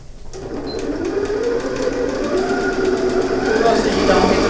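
A sewing machine runs steadily, stitching patchwork fabric along the top edge of a decorated scrap-fabric coin purse. The hum is close and continuous with no pauses, and there is no talk over it.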